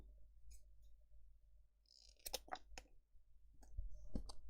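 Scissors snip through paper straws in a few sharp, close clicks and crunches, spaced irregularly over a quiet room background.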